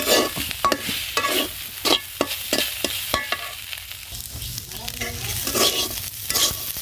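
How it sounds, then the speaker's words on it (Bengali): Stir-frying goat tripe in a pan: a spatula scrapes and clacks in quick repeated strokes over a continuous sizzle, close and steady, with no voices. "এখন লবণটা দিয়ে আমি আরও 1 মিনিট সময় ভেজে নিলাম।"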